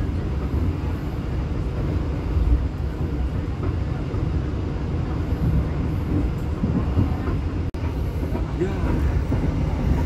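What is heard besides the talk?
green locomotive train riding the rails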